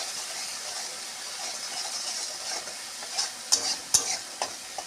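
Pointed gourd fries with turmeric and salt in oil, a soft steady sizzle near the pan, then a few sharp scraping stirs and clinks toward the end.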